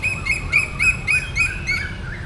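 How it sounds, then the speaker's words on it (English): Exotic birds in Benchakitti Park, Bangkok, during the rainy season, repeat a bright chirping call about six times in a steady rhythm, fairly close and clear over a low outdoor rumble. "some exotic birds"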